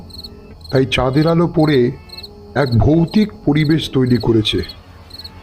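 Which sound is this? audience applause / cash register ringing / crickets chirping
crickets chirping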